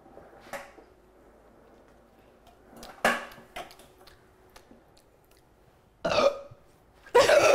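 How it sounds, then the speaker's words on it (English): A person lets out several loud burps at irregular intervals during a home cooking session, with the final burp long and forceful, separated by quieter pauses with faint movement. "That will make you burp so hard."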